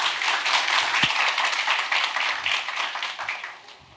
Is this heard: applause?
yes